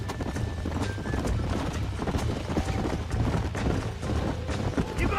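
Herd of wild horses galloping in Red Dead Redemption 2, with busy hoof clip-clop, a whinny and wind rush over a steady outdoor bed, fairly close, with voices talking now and then.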